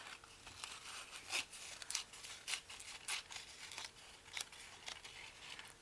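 Scissors trimming a paper doily, a series of crisp snips and papery crinkles in an uneven rhythm, close but faint, no talking.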